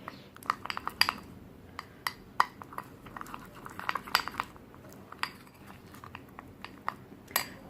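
Honey is stirred into a homemade face polish in a small bowl, giving sparse, soft clinks and scrapes of a spoon against the bowl. The taps are irregular and close, over quiet background noise.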